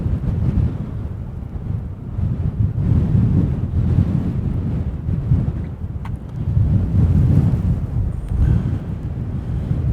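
Strong wind buffets a microphone high up at the Anfield stadium construction site, a loud, continuous low roar that swells and eases in gusts, with no voices.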